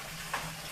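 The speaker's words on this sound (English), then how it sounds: "So just mix up the lobster around a little bit." Lobster pieces and green onions stir-fried in a wok, a steady close sizzle with a faint clink of a utensil stirring midway.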